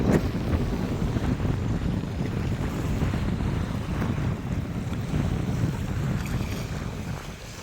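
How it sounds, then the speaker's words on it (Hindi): Waves wash steadily over open water, a continuous broad rush mixed with gusty wind buffeting the microphone, with no voices. "तो पानी में लहर है आज"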